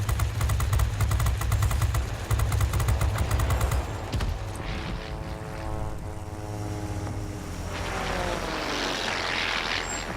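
An Ar 67 propeller fighter in a video game dogfight: rapid bursts of machine-gun fire over a loud engine drone, then the engine whines and shifts pitch through sharp manoeuvres.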